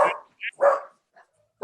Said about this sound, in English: I have two dogs who just decided to participate in the conversation.